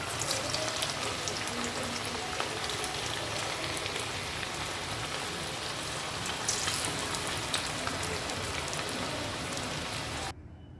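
Chicken pakora sizzles steadily in hot oil, a dense, even crackle of frying batter that carries on loud and unbroken before cutting off abruptly at the very end.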